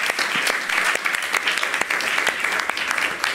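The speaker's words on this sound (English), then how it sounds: "So please give a big warm applause to Jacqueline, Corine, and Laurie." An audience applauds at a public talk in a café, with dense, steady clapping close by that holds for about three seconds, a voice faintly audible beneath it.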